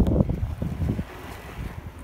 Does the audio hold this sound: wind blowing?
yes